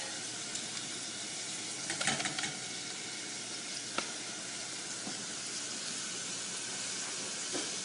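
A pot of Puerto Rican arroz con gandules, rice with pigeon peas, simmering with a steady sizzling hiss and a few soft clinks, alone without any voices.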